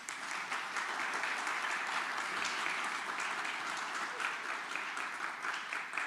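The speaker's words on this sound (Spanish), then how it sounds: "Un aplauso para las sedes." A lecture audience at the opening of a history course on the Mexican Revolution applauds steadily and evenly for several seconds, a dense wash of many hands with no break and no voices over it.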